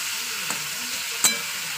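Chicken pieces being fried in oil in a pan for a dry chicken kosa, a steady soft sizzle with a couple of brief stirring scrapes, one sharper clink near the end.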